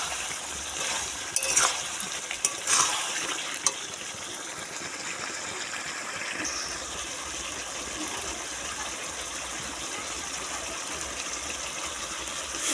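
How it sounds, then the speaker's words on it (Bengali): Hot water is poured into sizzling cooked chicken in a pan, producing a steady loud hiss and bubbling with a few sharp clinks near the start. "মাংসটা কষানো হয়ে গেছে এখন আমি জল দিয়ে দেবো এর মধ্যে"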